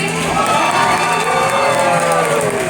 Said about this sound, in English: let's give it up for Team Katie